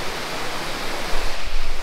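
Lower Dungeon Gill waterfall in the Lake District roars as a continuous, loud rush of falling water, broad and steady with a deeper surge toward the end, no voices.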